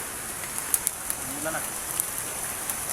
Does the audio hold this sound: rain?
yes